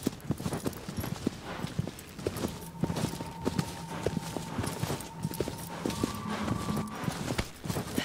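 Horse hooves clip-clop steadily in Shadow of the Colossus as the mount walks slowly, a continuous rhythmic patter mixed with game ambience and faint tonal music.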